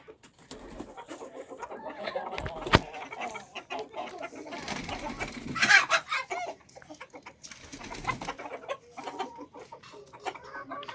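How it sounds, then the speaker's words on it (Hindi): Aseel hens cluck repeatedly in a farmyard, with scattered soft clucks and a louder cackling burst midway, fairly close and mostly alone. "तो अब ये आएंगी मुर्गियाँ हमारी बाहर,"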